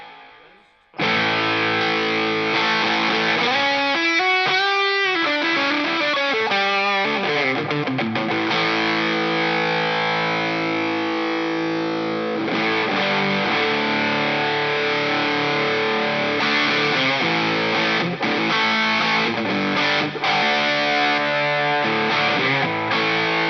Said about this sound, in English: So here's my distortion sound.